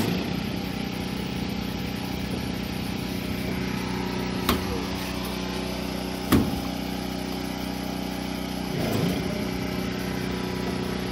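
A Maytag dryer motor runs steadily in a switch test, a continuous mid-level hum with a couple of brief sharp clicks and a soft swell near the end.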